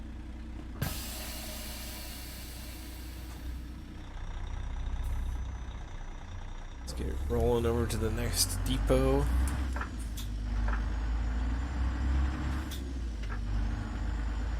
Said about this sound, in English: Love this engine sound, by the way.